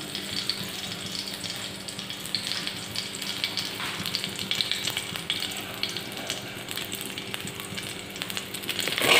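Chopped vegetables fry in hot sunflower oil tempered with bay leaf and green chili, giving a constant close sizzle with light stirring clinks that builds slightly toward the end.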